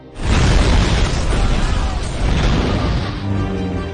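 A loud, roaring explosion from a building blown up by gunfire in an action film bursts in and rumbles on for several seconds, a dense blast of noise that slowly settles.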